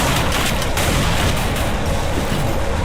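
Grenade explosions and gunfire in a competitive video game match, a dense, continuous barrage of booms and rapid shots with no pause.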